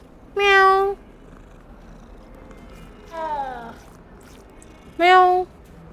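Cats meow in the Hogwarts Legacy video game, three distinct calls: two loud, clear meows at the start and end with a softer, wavering one between, over a faint purring background.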